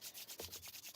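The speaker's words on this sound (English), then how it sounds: "Let's do our usual rubbing of powerful energies in our palms." Palms rubbed briskly together during a guided breathwork and meditation session, making a soft, close, rhythmic swishing friction sound that runs steadily for a moment with no voice.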